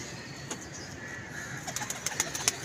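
Pigeons in a loft, including a Jammu-coloured male, give soft cooing calls and a few sharper chirps, faint over steady background noise with no talk.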